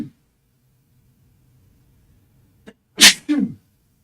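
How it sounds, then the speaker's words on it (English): One sharp sneeze bursts out after a quiet pause, with a short breathy catch right before it and a brief trailing exhale after. "Oh, I'm gonna sneeze."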